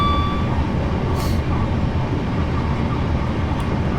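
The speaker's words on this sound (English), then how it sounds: "we can see how fast the train can go" Steady, loud rumble of a train running in Train Simulator 2018 on the Waterloo to Portsmouth line, continuous low-frequency rolling noise with a brief hiss midway, no talking.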